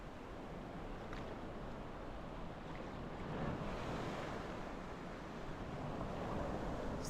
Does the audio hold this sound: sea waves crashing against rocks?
yes